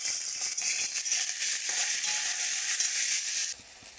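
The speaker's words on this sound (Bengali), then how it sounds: "ওর মধ্যে ঢ্যাঁড়সটা ভালো করে ভেজে নেব" Thinly sliced okra and potatoes sizzle and fry with cumin in a pan, a steady bright hiss with faint stirring rattles, close and continuous with no talking.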